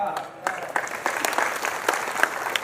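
Audience applause at a Hanuman Jayanti kirtan, a sustained crowd of hands clapping, fairly loud and close, with sharp individual claps standing out and voices mixed in.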